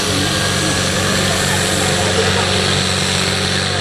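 Tractor-pulling engine in the standard 3500 kg class at a Kuhmalahti pulling event, revving up with a loud, steady, broadband roar of deep harmonic drone, close and continuous, with an announcer's voice over it.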